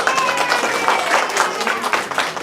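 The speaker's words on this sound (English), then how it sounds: "give her a big round of applause" Audience at a comedy and magic show applauds the magician's assistant, a steady wash of clapping from a crowd that holds loud and continuous throughout, with some voices mixed in.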